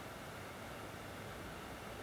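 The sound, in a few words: mini PC cooling fan noise at idle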